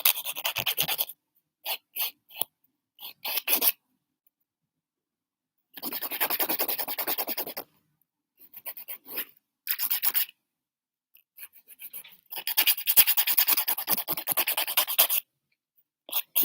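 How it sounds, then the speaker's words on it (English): A nail file rasping across a fingernail up close in a quiet manicure setting, in bursts of short strokes and longer steady scratching runs with brief pauses between, no talking. "Nice and round nail. Go around the edges. File it down."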